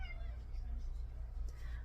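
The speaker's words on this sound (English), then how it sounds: "So hopefully his meows aren't too loud for the video" An indoor house cat meows insistently in a short, rising call. It is fairly faint over a constant low hum.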